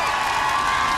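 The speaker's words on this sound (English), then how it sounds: "Oh, and the other artists clapping as well. And the audience." Eurovision crowd and fellow artists clapping and cheering during a live Croatian performance, a brief steady wash of applause and shouts.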